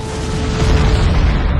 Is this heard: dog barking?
no